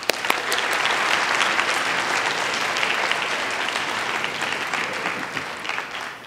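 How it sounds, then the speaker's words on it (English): Steady applause from a large audience, dense clapping sustained evenly for several seconds without a break. "So please give a round of applause for Dr. Gary Seidel."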